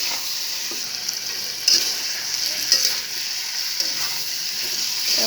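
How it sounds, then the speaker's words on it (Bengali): Duck meat stir-frying in spice paste, country duck kosha style: a constant bright sizzle broken by occasional stirring scrapes, close and with no talk. "এবার আমি মাংসগুলোকে দিয়ে দেব। দিয়ে খুব সুন্দরভাবে মশলাটা নেড়ে চেড়ে মাখিয়ে নেব।"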